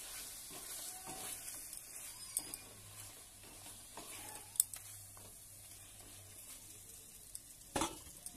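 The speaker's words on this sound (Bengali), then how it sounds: "মাছগুলোকে হালকা একটু নেড়ে চেড়ে" Fried fish being stirred into cooked spice paste in a pan, a steady soft sizzle with scattered scraping and stirring clicks, close and fairly quiet, with no talking.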